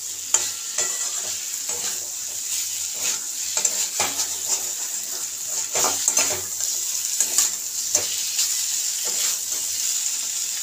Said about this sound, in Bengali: দিয়ে এবার নাড়িয়ে নেবো আরেকটু।